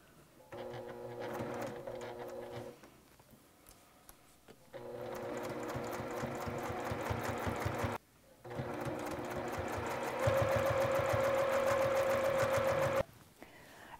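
A sewing machine stitches cork fabric at a longer stitch length in several sustained runs of close, steady motor hum and needle clatter, with brief stops between the runs.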